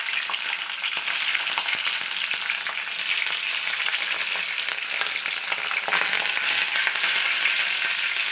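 Urad dal and green chillies frying in a pan, a dense, close crackling sizzle with scattered pops and occasional stirring scrapes that runs steadily throughout, with no voices.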